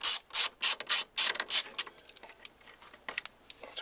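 Ratcheting screwdriver backing out T20 Torx screws from a 1993 Ford Mustang GT Fox Body steering wheel, a quick run of close clicking bursts that thin into scattered lighter ticks.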